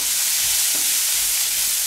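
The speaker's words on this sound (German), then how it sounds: "In die Pfanne geben wir wieder ein bisschen Öl und werden wir den Zwiebel anbraten." Chopped onion fries in hot oil in a pan, giving off a steady, close, bright sizzle with faint stirring scrapes and no voices.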